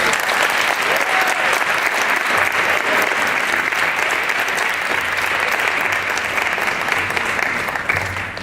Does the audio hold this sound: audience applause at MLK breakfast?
yes